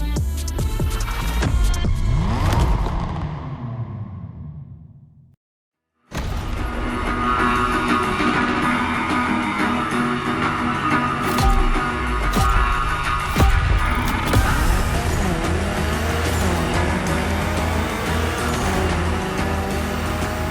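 A Mitsubishi Evo 9 engine revs hard in The Crew Motorfest during a Gymkhana event, loud and dense with rising and falling pitch sweeps, cutting out briefly partway through before roaring back steadily.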